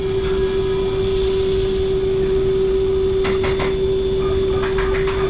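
Steady loud machine whine of a CNC cutter drilling screw holes in a custom Ultra G eyewear frame, constant tone throughout with a few brief cutting bursts near the end.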